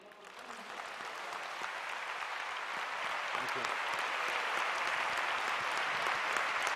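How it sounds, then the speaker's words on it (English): Sustained audience applause fills a conference hall, a steady dense clapping that grows slightly louder and continues for several seconds without pause. "So, well deserved applause."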